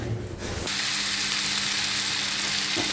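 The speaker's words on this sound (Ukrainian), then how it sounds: "Смажую сосиски і потім буду тушкувати з ними квашену капусту." Sausages fry in a hot pan with steady, loud sizzling that fills the whole clip after a brief muffled start, with a faint low hum underneath.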